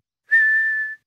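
A single steady whistled note, clear and close, held for under a second before stopping cleanly.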